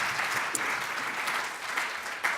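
An audience claps steadily in sustained applause at the closing of the Teach To Reach Summit 2016, a dense wash of hands throughout with no voices over it.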